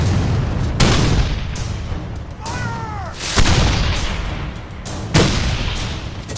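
Civil War artillery booms from the Battle of Gettysburg in a documentary reenactment, with several loud cannon blasts at intervals over a continuous rumbling battle din and a whistling shell passing.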